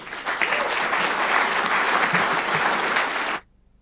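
An audience in Bautzen applauds to welcome Dr. Daniele Ganser: steady, full clapping for over three seconds, then an abrupt stop into near silence.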